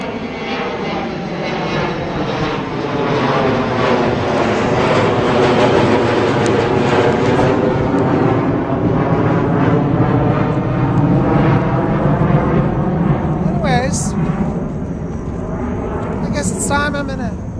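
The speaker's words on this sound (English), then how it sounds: "the planes are taking off" Airplanes taking off from a nearby airport at night, a loud, sustained jet engine roar passing very close overhead and rising and falling for the whole stretch, with a few brief sharper tones near the end.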